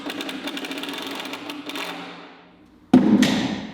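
A power driver sets mounting screws into a ceiling panel in a workshop office, with a loud whirring run, a pause, then a second sharp burst of driving close by.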